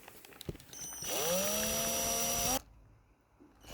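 A power drill whirs up and runs steadily at high speed for over a second, drilling a carp fishing rig, then cuts off abruptly, preceded by faint handling clicks.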